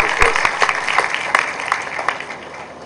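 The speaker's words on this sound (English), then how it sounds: "Please give him a warm round of applause." Warm audience applause for author Ned Beauman at a literary festival panel, a steady dense patter of many hands clapping throughout, moderately loud with a lively room feel and no talk over it.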